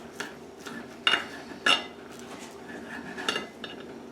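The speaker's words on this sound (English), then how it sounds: "Damn, I hit my fork." A fork strikes a dish while a croque monsieur is eaten, giving several sharp ceramic clinks and scrapes, a few louder taps standing out against quiet kitchen background.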